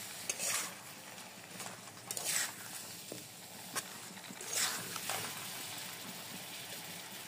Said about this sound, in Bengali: দিয়ে আবার সব ভালো মতো একসাথে নাড়িয়ে নেব।